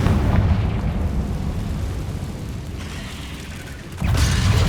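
Bombarda and Confringo spells blasting in the game Hogwarts Legacy, a dense run of loud booming explosions with rumbling low end that eases slightly before a fresh burst near the end.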